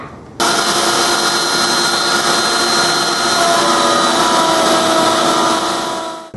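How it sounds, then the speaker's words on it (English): Plunge router cutting through a wooden workpiece, starting abruptly and holding a loud, steady high whine with a constant tone for several seconds before easing off at the end. "I'll be able to make passes like this with the plunge down and then go all"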